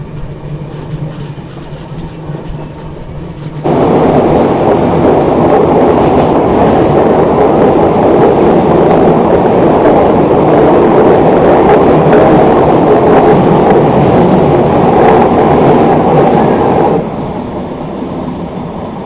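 A Karnataka Sampark Kranti Express train rounding a curve, heard from inside: a loud, steady roar of wheels and rails with rhythmic clatter that swells abruptly, holds for over ten seconds, then drops back to a quieter rumble.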